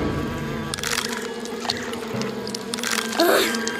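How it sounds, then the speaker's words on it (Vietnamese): Cartoon grasshoppers swarm a tomato garden with a continuous droning insect buzz, loud and close, layered over music and effects, with a brief voice sound near the end. "Lũ châu chấu đáng ghét"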